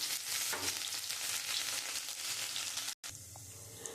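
Cumin seeds, a bay leaf and chopped ginger crackle in hot oil with a dense, continuous sizzle and a brief cut-out near the end; no voices.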